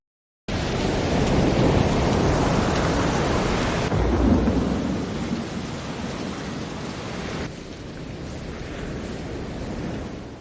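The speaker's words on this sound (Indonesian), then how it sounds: "Bahkan kondisi semakin buruk dengan hadirnya badai yang menghancurkan tempat istirahatnya" A violent thunderstorm batters an island, with heavy, roaring rain and deep rolling thunder that swells, then eases into a steady downpour.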